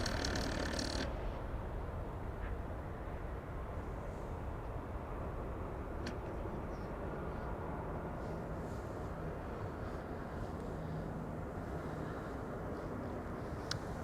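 Airbus A320neo jet departing Amsterdam Schiphol Airport, a broad steady engine roar heard from a distance that holds evenly throughout, with no talk.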